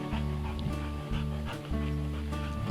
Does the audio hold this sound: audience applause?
no